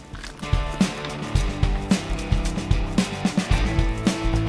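Steady stirring of boiling pork and chicken adobo in a pot, with repeated knocks and scrapes of a utensil in a quick rhythm over a bubbling, sloshing background.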